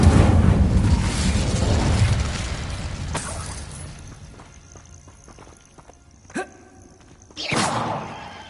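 Bombarda and Incendio spells explode in Hogwarts Legacy: a heavy roaring blast opens and slowly fades, then a sharp crack follows and a second loud burst lands near the end.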